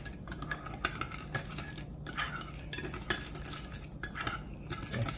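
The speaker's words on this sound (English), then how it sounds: "I'm going to mix that together." A coconut milk mixture with cinnamon powder and sugar is stirred in a bowl for Jamaican cornmeal pudding, with quiet rapid utensil clinks and scrapes against the bowl repeating steadily at close range and no voices.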